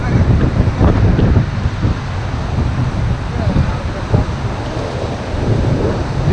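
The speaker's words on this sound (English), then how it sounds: "this one is major rapid good one" River rapids roaring during a white-water rafting run on a major rapid, a constant loud rush of churning water mixed with wind buffeting, with voices shouting over it.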